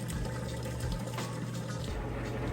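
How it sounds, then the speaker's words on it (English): An Amana top-load washing machine drains water out during its cycle, a steady continuous rush of flowing water with a low pump hum, close and constant throughout. "It's draining that water out right now. It's draining nice and fast out the drain there."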